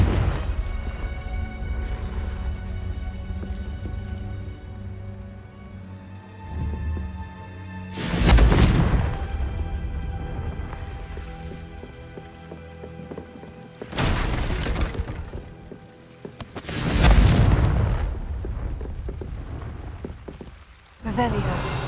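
Confringo blasting spells from Hogwarts Legacy burst in three loud, booming explosions with crackling debris, spaced several seconds apart over a soft musical bed and character dialogue.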